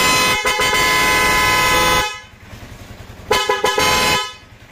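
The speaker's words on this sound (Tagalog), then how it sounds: "Ibusina rin po yan. Lumakas pa." A car horn honks loudly in two bursts, the first lasting about two seconds and the second shorter, heard close up with an engine idling quietly in the gap between them.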